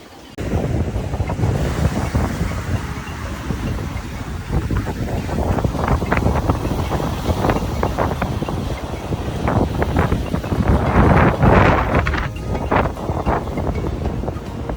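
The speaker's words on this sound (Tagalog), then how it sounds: "malakas yung hangin tapos malakas yung ulan" Strong wind buffets the microphone in a continuous loud roar on a rainy beach on Maafushi Island in the Maldives, with surf and gusts swelling and fading throughout.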